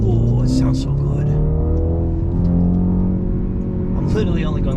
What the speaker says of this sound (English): This car has a beautiful engine tone, really does.